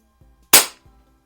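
A Hatsan Jet 2 air rifle fitted with a suppressor fires a single shot: one sharp, close crack with a quick decay, and near-silence before and after.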